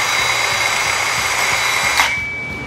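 A Milwaukee cordless metal-cutting circular saw at about 3,900 RPM cuts through metal, giving a steady, loud high-pitched whine with a ringing tone that runs close up for a few seconds, then drops off as the cut ends.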